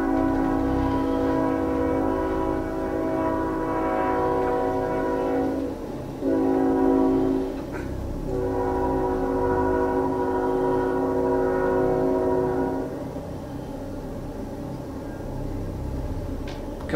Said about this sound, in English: You hear that train?